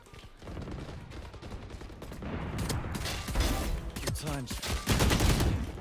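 Gunfire from the Valorant video game, with Ghost pistol skins, comes as bursts of close sharp shots mixed with game effects and grows louder and busier toward the end.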